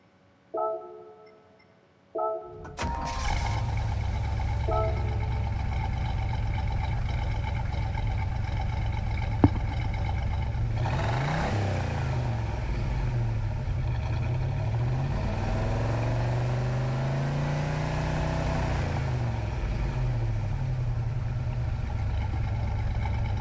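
A 1978 Firebird's engine in Gran Turismo 7 drones steadily after a brief quiet start, with rising and falling revs in the middle and a constant low rumble.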